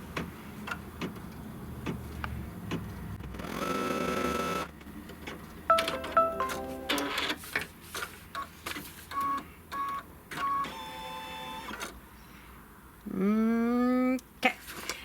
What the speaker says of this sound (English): it's going to stitch the tack down here. So it's going to stitch that pocket lining down